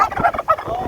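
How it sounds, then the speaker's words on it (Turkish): A short, loud turkey gobble, a rapid warbling burst heard up close at an animal market in Adana, Turkey. "Ana hindi bile var maşallah."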